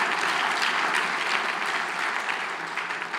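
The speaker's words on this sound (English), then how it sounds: "I want you guys to give them one more round of applause" An audience at a school board meeting claps in sustained, even applause for graduating seniors, a steady mid-level wash of many hands with no voices over it.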